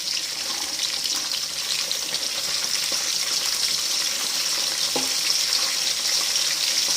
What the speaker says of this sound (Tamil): அதுலேயே கொஞ்சம் சின்ன வெங்காயம் அரைச்சி வச்சுருக்கோம் அதை போடுவோம்